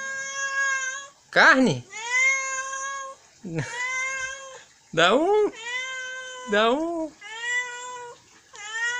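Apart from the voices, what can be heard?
cat meowing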